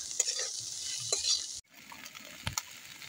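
Potatoes seasoned with salt sizzle in a pan while a spoon stirs and scrapes them. The frying hiss is soft and steady, broken by light clinks and scrapes, with one brief dip partway through.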